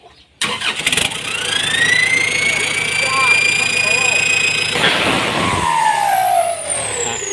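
A car engine fitted with a racing turbocharger housing revs loud and close, with a rising turbo whine over a deep roar. It then drops away into a descending whistle.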